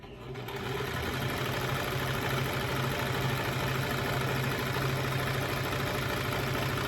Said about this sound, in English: I now come in and put this other piece on the other side. And we are going to sew that.